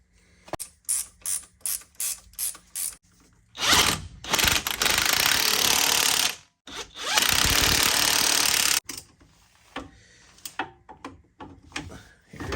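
A 2009 Nissan Murano control arm bolt is worked with a series of quick ratchet clicks, then two longer loud bursts of a power tool, followed by softer scattered clicks and tool handling nearby.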